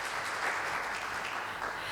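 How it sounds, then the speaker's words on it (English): Audience applause at a traditional Cantonese opera music education event, a steady dense clapping that fills the whole stretch, loud and close with no talk over it. "So please give a big applause for him."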